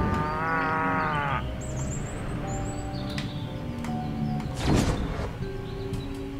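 Cattle in the video game Destroy All Humans moo in long, loud calls, with a sharp impact-like burst partway through and faint bird chirps above.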